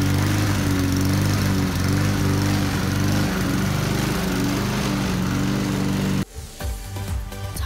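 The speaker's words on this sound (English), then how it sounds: "Time to mow the lawn." A lawn mower engine drones steadily and loudly up close, then drops off abruptly and sputters as the motor changes load near the end.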